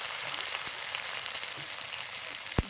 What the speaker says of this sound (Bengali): এ দেখুন সব মশলা একসঙ্গে দিয়ে কি সুন্দর ভালো করে কষিয়ে নিচ্ছি।